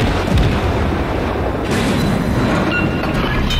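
Naval guns of the Soviet destroyer Gremyashchy fire in World of Warships, with loud booming reports rolling one into the next against a constant heavy rumble.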